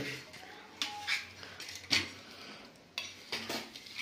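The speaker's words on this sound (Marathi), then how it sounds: "आता याची कट करायचं आहे आपल्याला, पीस करायचे तुकडे तुकडे." Paneer is being cut into pieces in a home kitchen, giving scattered clinks and taps of a knife against a plate or pan, moderately close, with pauses between strokes.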